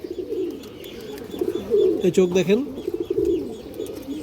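An old-line Gorra female pigeon coos in several soft, throaty bursts close by, while someone talks over it.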